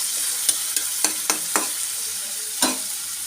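Chopped onion and green chilies frying in a pan, a close, steady sizzle punctuated by several sharp scraping stirs of a utensil, no talk.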